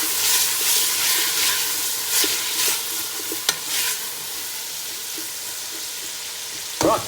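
Garlic and onions frying for a lamb stew, a steady close sizzle with bursts of stirring scrapes and a sharp utensil knock midway, another clatter near the end, no talk.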